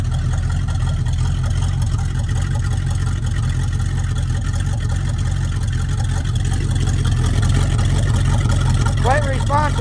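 A 1974 Dodge Dart Sport's 360 V8 runs with a steady, loud, close rumble that holds throughout, while someone talks over the engine.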